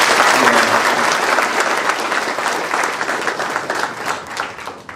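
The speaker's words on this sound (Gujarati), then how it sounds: "મિત્તલબેન અને જહાભાઈ માટે આપણે પુનઃ તાળીઓ વગાડીને" An audience at a talk on competitive exam preparation breaks into sustained, dense clapping that stays loud and even, then gradually thins toward the end.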